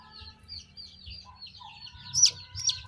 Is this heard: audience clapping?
no